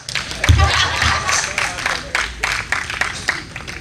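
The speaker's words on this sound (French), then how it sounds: "Oh, applaudissez-vous" An audience at a live comedy show claps in scattered, uneven bursts, with irregular hand claps and thumps rising and falling, while a voice talks over the applause.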